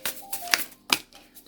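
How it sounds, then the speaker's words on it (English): Unfolding Path Tarot cards are shuffled up close, giving a few quick riffling bursts of papery flutter and soft slaps. "I'm going to shuffle the cards from the Unfolding Path Tarot"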